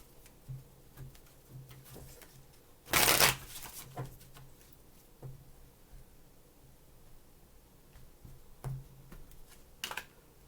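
Cards riffled and shuffled nearby, one loud burst followed by lighter clicks and taps over a quiet, steady background.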